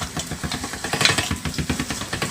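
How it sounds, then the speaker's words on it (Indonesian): Electric noodle machine pressing and rolling yellow noodle dough on setting 1, a steady mechanical whirring rumble with rhythmic pulsing, close and fairly loud, no talking. "Dan ini seperti diuleni lagi ya pakai mesin."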